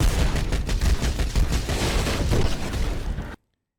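Loud, rapid bursts of gunfire in an animated film rattle almost continuously for a few seconds, then cut off abruptly into silence.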